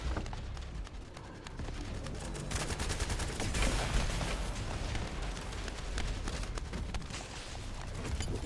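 Rapid bursts of gunfire from The First Descendant rattle on continuously over a dense, loud layer of game noise, with no pauses.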